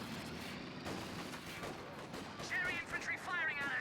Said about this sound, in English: Infantry firing at us.